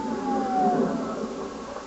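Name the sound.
sirens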